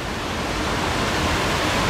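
A waterfall at Erawan National Park, heard close up: a loud, dense, unbroken rush of falling water that fills the whole clip, with no voices.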